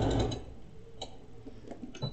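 A short burst of a sewing machine stitching fabric edges together on a scrunchie, followed by a few soft ticks and handling sounds.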